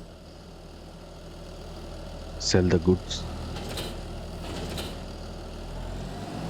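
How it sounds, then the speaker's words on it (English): A farm tractor idles with a steady, low mechanical rumble that runs throughout, while someone speaks briefly over it partway through. "I will now jump in the fan tractor"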